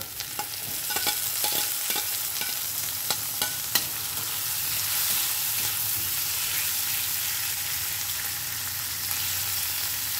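Garlic, dry red chillies, nigella seeds and green chillies fry in hot oil, a close, steady sizzle broken early by several sharp spatters and stirring taps, then settling into an even hiss with no voices.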